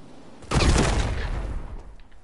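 An explosive detonates in Fortnite, one sharp close blast that decays over a couple of seconds into a fading rumble, with nothing else over it.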